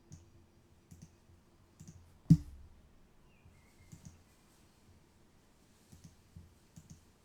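Sparse, quiet mouse clicks and light keyboard taps on a computer while copying and pasting text, scattered singly and in small pairs, with one sharper, louder click near the middle and no talking.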